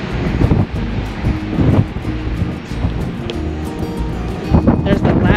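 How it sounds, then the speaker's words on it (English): Strong wind buffets the microphone at a borax open pit mine in Boron, California, a loud, steady roar with gusting surges that lasts the whole clip. "The wind is blowing so hard at this point I have to do a voiceover"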